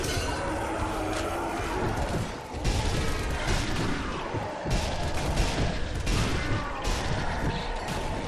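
Gunfire in the Zombie Army Trilogy video game: a dense, continuous barrage of shots and mechanical clatter, loud and close throughout, with a few sharper blasts punctuating the din.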